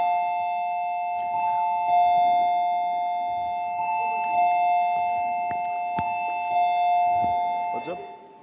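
Doorbell chime in a room during a German-language talk, sounding two or three times as ringing tones over a steady electronic hum, with faint voices in the background.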